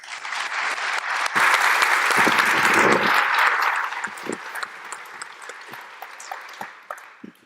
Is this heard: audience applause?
yes